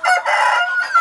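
Asil gamefowl rooster, a fighting breed kept at a small hillside farm, crows once in a loud, close, sustained call with a brief dip partway through.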